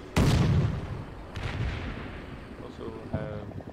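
Tank cannon shots and gunfire in a war video game fighting around a community center: a heavy close boom opens, then a second duller blast and scattered distant shots rumble on.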